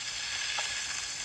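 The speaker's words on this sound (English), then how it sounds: "It's been about 3 minutes, and the burgers are ready to flip." Burgers sizzling in a pan just after being flipped, a dense, even hiss of hot fat heard up close, ending with a brief louder crackle, without speech.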